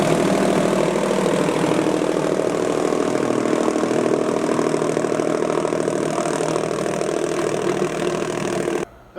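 Steady, loud mechanical droning of a rug dusting machine beating dirt out of an oriental rug, a constant engine-like rumble with dense rattling that runs unbroken and cuts off abruptly near the end.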